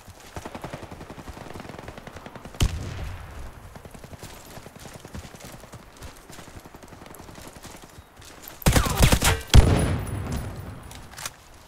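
Onyx AK-12 rifle fire in the shooter game Warface, with Blackwood camo: rapid automatic bursts running under the game's ambient sound, then louder, harsher volleys near the end.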